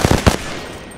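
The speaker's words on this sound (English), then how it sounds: "I'm getting shot at." Gunfire in Apex Legends: a quick burst of three or four close, loud shots in rapid succession, then a fading tail of reverberation.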